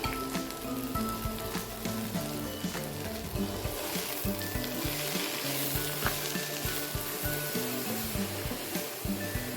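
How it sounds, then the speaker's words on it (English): Thinly sliced onions, mushrooms and broccoli florets stir-frying in a hot skillet, a loud continuous sizzle and crackle close by with intermittent stirring scrapes underneath, and no talk. "Add in the thinly sliced onions, the mushroom and the broccoli florets and stir fry for 5 minutes until the mushrooms are softened"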